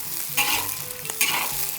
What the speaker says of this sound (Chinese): 姜蒜儿下锅，继续翻炒哈